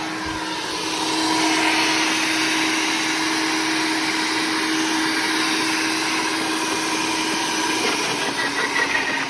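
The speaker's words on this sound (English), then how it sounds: "Let's look at let's run it real quick on here. Turn it on. It's pretty loud." SunJoe electric wood chipper running loud and steady with a high motor whine, a branch fed through it for shredding, continuous close droning throughout.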